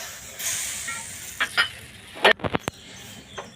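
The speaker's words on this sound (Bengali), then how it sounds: "কড়াটা গরম হয়ে গেছে বলে আমি প্রথমে অল্প একটু জল দিয়ে দিলাম, আর এই এক বাটি চিনি দিয়ে দিচ্ছি" Water and sugar tipped into a hot wok, a soft hiss rising at first, then a few clattering knocks of utensils against the pan, close and fairly quiet.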